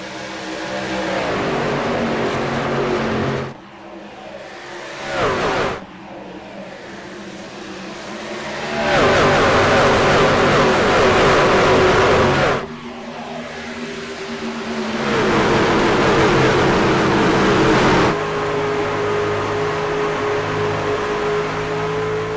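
Simulated NASCAR stock cars race at Darlington in an online racing game, loud engine drones rising and falling through shifts and revving as the pack accelerates from the green flag, with abrupt cuts between views.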